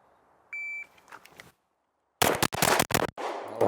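A shot timer beeps, then a rapid string of pistol shots in a timed shooting drill, loud sharp cracks fired in quick succession with brief gaps, preceded by soft handling noises.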